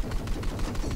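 Boat-mounted cannon in the Battlefield 4 multiplayer game firing a quick run of rounds in a steady, even rhythm, each shot a short crack close and fairly loud.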